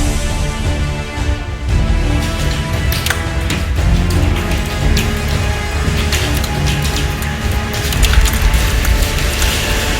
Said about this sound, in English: barges drifted freely, crashing into bridges